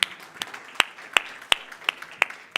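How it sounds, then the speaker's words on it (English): Clapping for participants at a Johannesburg startup pitch competition: sharp, evenly spaced claps, about eight in under three seconds, close and distinct with quiet between them. "Just a round of applause for the participants."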